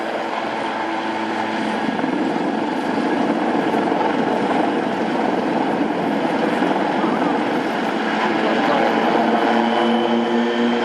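A Lynx helicopter climbs at an air display, its loud continuous rotor and turbine roar filling the air without a break.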